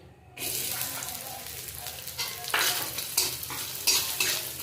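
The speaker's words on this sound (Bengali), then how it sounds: "সরষের তেল সামান্য তেল দিয়ে নারকেলটা ভাজবো কুচানো নারকেল" Grated coconut frying in a little mustard oil crackles in after a moment of near-quiet, joined by repeated scraping stir strokes that come in rhythmic bursts close by.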